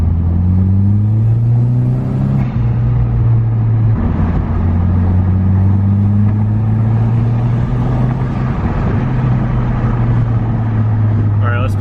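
Saab 9-3 four-cylinder with a custom intake revving in manual mode, heard from inside the car: a loud steady drone rising and falling in pitch through several climbs and gear changes, engine noise filling the cabin.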